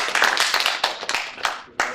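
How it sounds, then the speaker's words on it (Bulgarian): Applause for a speaker at a business presentation in Shumen, Bulgaria: a modest crowd clapping in uneven bursts with distinct individual claps, tapering off and briefly picking up again near the end. "моля за вашите аплодисменти"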